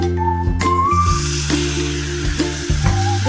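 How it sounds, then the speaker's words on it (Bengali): Water poured onto spices frying in a pan for a Bengali dish of hilsa fish head with taro greens, giving a loud close sizzle with stirring scrapes and a steady hiss throughout, under background music. "মশলাগুলোকে খুব ভালোভাবে কষানোর জন্য আমি এখানে সামান্য একটু জল ব্যবহার করছি"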